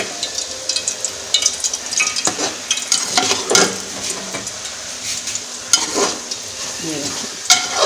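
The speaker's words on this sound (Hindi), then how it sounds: "अब इसको 2 से 3 मिनट हम अच्छे से इसकी भुनाई करेंगे" A Pakistani-style fish masala base sautés in hot oil, with close, steady sizzling under repeated irregular scrapes and taps of a spatula stirring against the pan.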